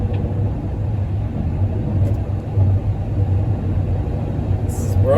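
Steady low rumble from inside a car moving through slow traffic, a continuous engine and road drone with a voice talking over it.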